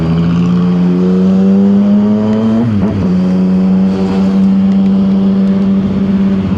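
A CF Moto 675 SR-R motorcycle engine holds a loud, close, steady tone, dips briefly as the throttle is blipped, and then settles back to a sustained drone.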